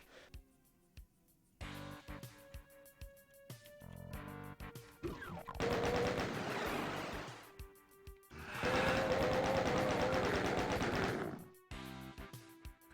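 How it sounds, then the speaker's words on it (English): Heavy shotgun blasts and crashing combat sounds in the video game Doom 2 come in loud bursts separated by quieter stretches, with game music and effects running throughout. "I'm using too much shotgun bullets."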